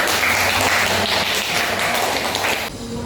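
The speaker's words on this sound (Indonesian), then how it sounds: "Tepuk tangan." Applause from a classroom group fills the room, dense and steady, then thins out near the end, following an Arabic language lesson.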